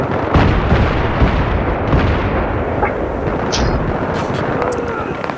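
Mortar fire in a video game pounds out repeated heavy, rumbling booms that overlap into a dense, continuous barrage, loud and close for the whole stretch.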